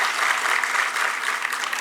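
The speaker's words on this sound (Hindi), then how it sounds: "सब लोग ताली बजा के उनका स्वागत भी करेंगे" A crowd claps for the Governor at a TB-Free India felicitation ceremony at Raj Bhavan, Dehradun: dense, steady applause from a large audience, filling the whole moment at even loudness.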